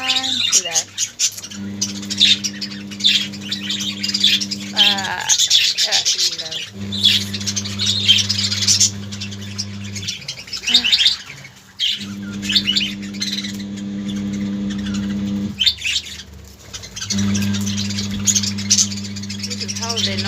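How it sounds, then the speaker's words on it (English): Pet birds at feeding time, loud squawks and quick chirps bursting out again and again at close range, with a low steady hum and someone talking in between. "This is how they normally play when they see food."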